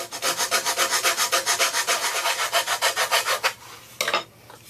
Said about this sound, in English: a nice rasp.